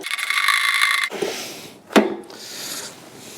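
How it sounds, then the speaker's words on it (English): A 7mm socket ratchets loose a jubilee clip on a neglected Ford Escort Mk2, with metallic clicking and scraping, a rattle, then one sharp clink, close and fairly quiet. "So 7mm socket to undo this Jubilee clip."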